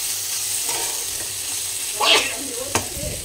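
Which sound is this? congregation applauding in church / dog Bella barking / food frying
food frying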